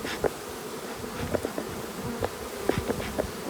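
Honeybees buzz around a hive being smoked, with many close wingbeat drones rising and passing over a steady hum, no voices.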